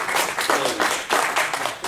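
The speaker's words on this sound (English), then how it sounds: "Any applause in the room for this?" Audience in a real-estate seminar room gives a scattered, uneven round of applause, swelling and dipping in bursts of claps, moderately close with no speech.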